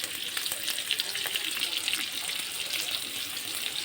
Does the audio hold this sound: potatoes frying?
yes